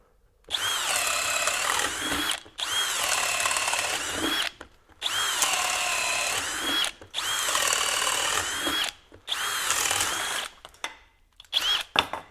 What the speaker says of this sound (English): we have a 3/4-inch self-driving auger bit here, or self-drilling auger bit